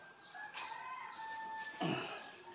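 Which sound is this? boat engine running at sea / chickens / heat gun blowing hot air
chickens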